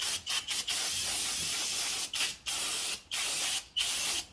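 Cleaner sprayed to wash brake fluid off a vehicle's brake parts in a garage, a series of loud aerosol hisses in quick bursts, separated by brief gaps, close to the listener.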